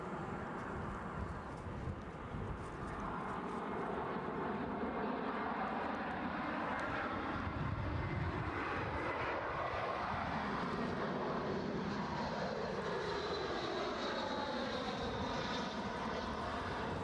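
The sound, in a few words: EasyJet A321 airliner at Edinburgh Airport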